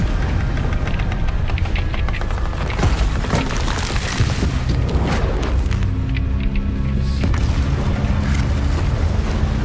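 Loud booming explosions with rumbling bursts and crackling debris in the game Hogwarts Legacy, heavy and continuous through the clip, dense and close.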